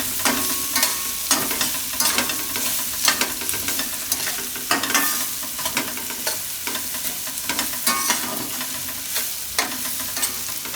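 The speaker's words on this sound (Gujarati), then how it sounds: "આમાં શેકી લેવું થોડુંક તેલમાં આ રીતે. ગરમા ગરમ હોય તેલ આનું એટલે ફ્લાવર ભેગું અસર શેકાઈ જાય લોટ." Cauliflower fries with flour in hot oil, a steady close sizzle broken by regular scraping strokes of a spoon stirring the pan, with no one talking.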